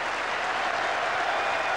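A capacity cricket crowd at Old Trafford applauding Botham's shots during the 1981 Ashes Test, dense, loud, continuous clapping throughout.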